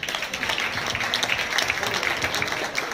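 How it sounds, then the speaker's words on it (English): Audience at a Skilling Queenslanders speech event in Cairns applauds in a steady, dense wash of clapping that continues at even loudness through the whole stretch, with no voices over it. "So give yourselves all a massive round of applause."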